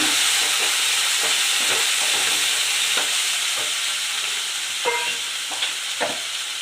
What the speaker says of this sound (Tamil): ஒரு மீடியம் சைஸ் தக்காளி 2 நல்ல பழுத்து தக்காளி போட்டு நல்லா வதக்கிக்கோங்க.